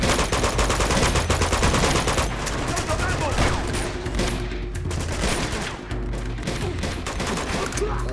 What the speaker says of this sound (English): Okay, that's a shotgun.